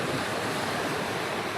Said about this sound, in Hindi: इतनी अच्छी हवा चल रही है, सामने बीच है